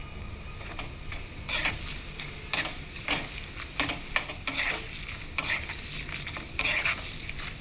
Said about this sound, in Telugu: 1 స్పూన్ జీలకర్ర వేస్తున్నాను.